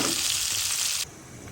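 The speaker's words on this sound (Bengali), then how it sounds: "মাছগুলো ভেজে নিচ্ছি" Fish frying in oil in a home kitchen makes a loud, steady, close sizzle that drops abruptly to a quieter hiss near the end.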